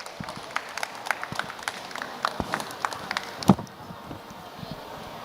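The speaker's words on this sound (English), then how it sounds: "Let's give a round of applause for Professor." Audience applause for the opening speaker at a climate adaptation session, heard as sparse, scattered claps from a small room that fade out after a few seconds.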